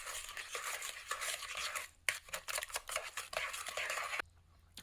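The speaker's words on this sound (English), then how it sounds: "Lightly whisk it all together like this until the mixture whitens." Eggs, sugar and vanilla are lightly whisked in a bowl, a quiet, rapid scraping and tapping of the whisk against the bowl that pauses briefly midway and stops near the end, with no talk.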